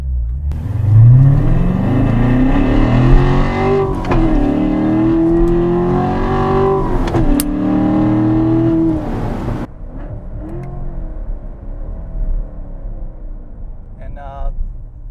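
A 2014 Chevrolet Corvette Stingray in track mode pulls hard at full throttle, the engine climbing loudly through gears with quick shift breaks before easing off to a quieter rumble. A person speaks briefly near the end.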